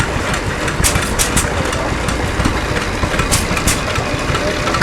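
A John Deere hit-and-miss stationary engine, painted green with yellow pinstriping, chugs steadily and loudly up close, with intermittent sharper firing pops over its continuous low running.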